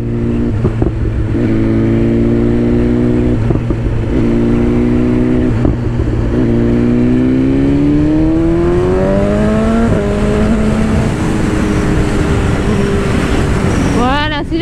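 A 2022 BMW S 1000 RR sport motorcycle engine drones close up, then revs and climbs in pitch as it accelerates, loud throughout with wind noise at the end.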